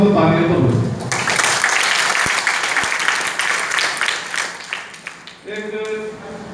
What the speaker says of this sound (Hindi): अगर मेरी बात से सहमत हो तो तालियां तो बजाओ।